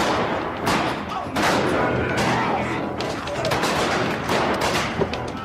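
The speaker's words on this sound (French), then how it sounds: "Il tire sur un troupeau de bisons." Rifle shots are fired at a herd of bison in a film scene, a rapid series of loud cracks and booms that keeps firing close together over a busy background.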